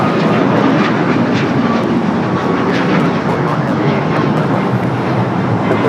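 A Boeing 737 MAX 9 jet at Los Angeles International Airport produces a loud, steady engine roar close by, broadband and unbroken across the whole stretch.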